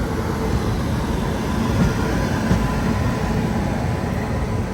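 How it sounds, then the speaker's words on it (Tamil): A Tiruchirappalli-bound train rolling through Shornur Junction railway station in Kerala, a loud, continuous low rumble of wheels and carriages close by, steady throughout with faint clatter and no voices. "திருச்சிவேலி ட்ரெயின் போயிட்டுருக்கு."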